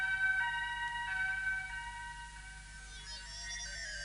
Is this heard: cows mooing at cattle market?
no